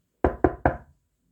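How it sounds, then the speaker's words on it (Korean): Three quick, firm knocks on the door of a small house, evenly spaced and close by, each with a short hollow ring, then silence. "아저씨는 문을 두드렸습니다."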